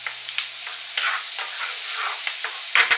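Shallot and red pepper flakes fry in a pan, giving a steady close sizzle with scraping stir strokes and a few sharper clinks near the end.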